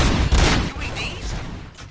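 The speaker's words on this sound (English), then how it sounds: "Gunshots? What's going on?" Gunfire in the RoboCop: Rogue City video game on PS5, a short burst of booming shots with rumbling echo, mixed with other game sound.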